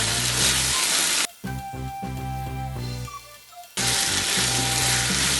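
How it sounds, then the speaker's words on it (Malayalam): Curry leaves dropped into frying Kerala-style pepper chicken, a loud hot sizzle that drops back to a quieter spattering hiss, then roars up again at full strength, close and alone. "ഇനി ഇതിലേക്ക് കുറച്ച് കറിവേപ്പില ഇട്ട് കൊടുക്കാം."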